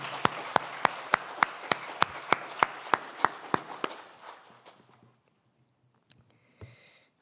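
Church congregation at a Sunday service clapping in a slow, evenly spaced rhythm, about a dozen sharp unison claps over roughly four seconds before fading into a quiet room with a faint stray sound.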